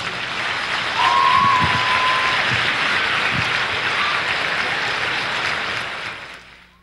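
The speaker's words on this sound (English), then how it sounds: "Can everybody give a round of applause for these guys that fought for us?" A crowd applauds veterans in a large hall, a broad wash of distant clapping with a faint whistle early on, steady for several seconds before dying away at the end.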